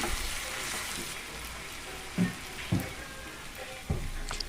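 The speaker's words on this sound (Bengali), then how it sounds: "নুন দেওয়ার পর আবার ভালো করে নাড়াচাড়া করছি" Chicken sizzles and fries steadily in a pan after salt is added, with a few louder scrapes and knocks from stirring breaking through the constant crackle.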